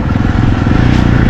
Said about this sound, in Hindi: बाइक चल रहा है